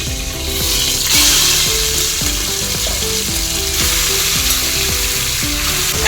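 Pieces of mutton and fat sizzle in hot oil for a Maharashtrian mutton curry, with a steady bright crackle and repeated rhythmic scrapes and clicks from stirring close by. No one talks.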